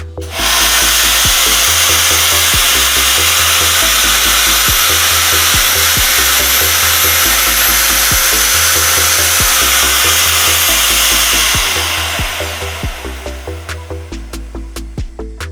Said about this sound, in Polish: Jeden otwór mamy wywiercony.